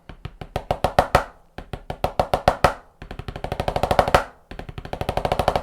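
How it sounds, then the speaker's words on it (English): Snare drum fifteen-stroke rolls in quick bursts, each roll speeding up and swelling louder into an accented final hit, repeated four times with no voices. "that is the other very common way you'll see a 15-stroke roll"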